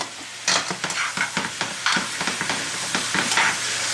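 Sausages and vegetables fry in a pan for bangers and mash, giving a steady close sizzle with repeated scraping and stirring clatter throughout, no talking.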